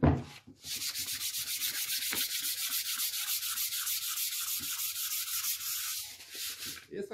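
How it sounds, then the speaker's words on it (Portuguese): A rustic wooden stool is hand sanded with 320-grit sandpaper, producing a steady rhythmic series of close, fairly loud back-and-forth scratching strokes for several seconds. "Peguei uma lixinha 320."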